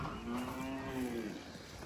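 Cows moo in a long, steady low call on a farm, close and clear over a continuous background hum, with no speech.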